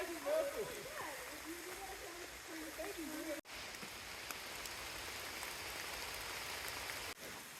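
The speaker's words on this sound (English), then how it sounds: "It's pouring down rain." Heavy rain pouring down at a backpacking camp in the Sipsey Wilderness, a steady hissing patter of drops on surfaces that continues throughout, with a person talking over it at the start.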